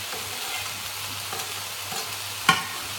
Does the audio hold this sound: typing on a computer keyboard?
no